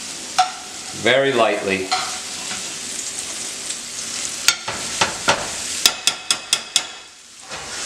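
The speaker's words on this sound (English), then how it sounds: "You just want to cook the shrimp" Shrimp sizzle in a pan for shrimp fettuccine, a soft steady fry punctuated by a run of sharp utensil taps and clinks against the pan, with a brief spoken comment early on.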